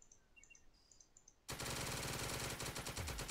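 Machine gun fire in the World War II strategy game Second Front, set in Berlin's east sector, erupts suddenly after quiet ticking sounds and continues as a loud, rapid, sustained burst of shots.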